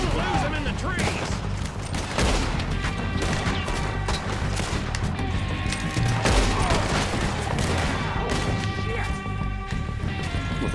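Several shooters exchange gunfire in Red Dead Redemption 2, sharp cracks and bangs scattered densely over a loud mix of game music and effects, with a voice talking over parts of it.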